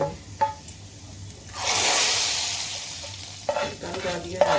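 Hot golden ginger tadka poured into cooked dal gives a sudden loud sizzling hiss that swells and then fades, framed by a few clinks and stirring scrapes in a kitchen.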